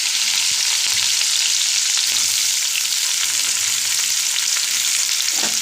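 A steady, loud hiss of chopped onions and green chilies frying in hot oil over cumin seeds fills the clip, with faint stirring clatter underneath.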